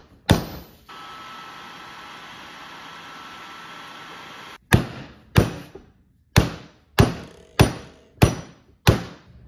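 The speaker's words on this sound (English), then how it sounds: "I'm gonna see if I can just tap this the rest of the way out." A hammer strikes a part being knocked out of a Mopar A833 four-speed transmission: one sharp blow, a steady hiss for several seconds, then a rhythmic run of eight loud metallic taps close by.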